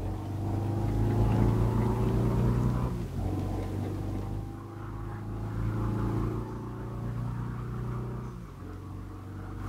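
Car engine in the driving video game Test Drive Unlimited 2, a steady droning hum that drops briefly as the car shifts, then climbs and holds again, loud and continuous.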